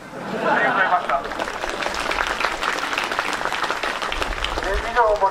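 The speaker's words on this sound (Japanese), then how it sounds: "もう一度盛大な拍手をお願いいたします。" Sustained audience applause at a birthday event, a dense wash of clapping that carries on loud throughout, with a voice speaking over it at the start and end.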